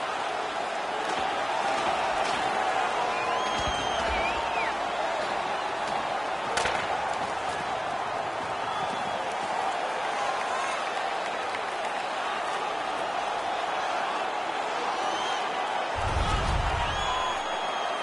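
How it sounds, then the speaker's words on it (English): Arena crowd in NHL 18 hockey cheers and roars continuously as a dense, steady wall of noise, with occasional thuds and bumps cutting through, loud and sustained. "The crowd is all over them right now."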